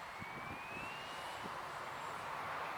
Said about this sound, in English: Taking off to the south.